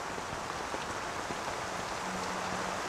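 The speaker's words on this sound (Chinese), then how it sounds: "小夏记者，下这么大雨在这干嘛呀？" Heavy rain pouring steadily, a dense, even hiss with faint drips and no pause, fairly soft and continuous.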